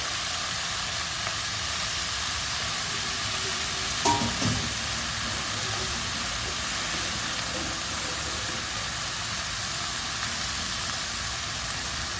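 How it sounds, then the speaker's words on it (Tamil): Greens sautéing in a pan give a continuous, fairly loud sizzle and hiss throughout, with one short clatter of stirring partway through; no voices. "கீரையை நல்லா வதக்கிடுங்க"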